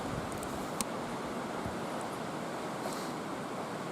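Steady, roaring wind rushes without pause through a forest clearing, bending trees, a dense broadband whoosh like gusts tearing through trees, with faint crackles over it.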